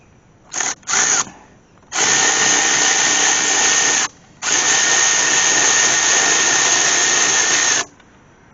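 A power ratchet or drill spins a 10 mm socket on a 6-inch wobble extension, loosening a cam sensor bolt on a Cadillac CTS engine; two quick bursts, then two long, loud continuous whirs, close up and alone.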